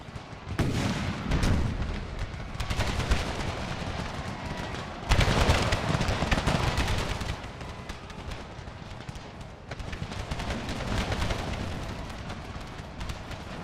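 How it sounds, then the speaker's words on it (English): Howitzer artillery in Empire: Total War, a Civil War-era battle mod, booms with heavy rumbling blasts mixed with crackling musket volleys. A dense, loud barrage with a fresh surge partway through. "Come on, howitzers, fire, fire, fire."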